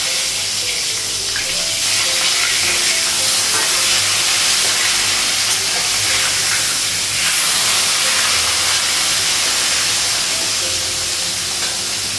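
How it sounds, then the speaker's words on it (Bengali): Fish fries in hot oil in a pan on a gas stove, giving off a loud, steady sizzle that hisses without pause throughout. "গ্যাসটা কমালাম, মাছটা ভাজা হয়ে গেছে"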